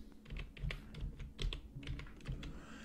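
Computer keyboard typing during data entry in QuickBooks Desktop accounting software: quick, irregular clusters of close keystrokes run steadily for a few seconds with no talking.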